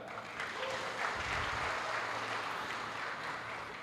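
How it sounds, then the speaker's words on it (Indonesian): Steady applause from an audience at an Ansor inauguration event in Tegal, honoring a women's choir; dense continuous clapping fills the room at even strength for several seconds with no speech over it. "Dan tak lupa kita berikan tepuk tangan kepada ibu-ibu yang tadi memberikan paduan suara."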